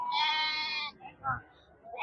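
Sheep and goats bleat at a Friday livestock market in Ettayapuram, Thoothukudi district, with one long loud bleat followed by shorter calls and voices around.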